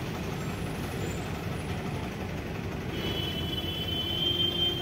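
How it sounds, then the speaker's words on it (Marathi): A truck moving off on an Indian road, with a steady rumbling engine and hiss of traffic noise, plus a brief high tone near the end. "मागली गाडी पुढे निघते."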